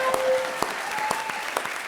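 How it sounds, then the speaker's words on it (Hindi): A comedy show studio audience claps steadily, a brisk patter of many hands at moderate distance, with no voices over it. "ठोको ताली।"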